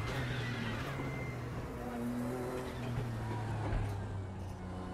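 GTO race car engine in the RaceRoom racing game, a loud steady in-car drone with shifting low harmonic tones as revs rise and fall, continuous throughout.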